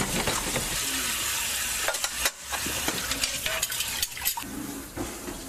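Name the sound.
washing dishes after a meal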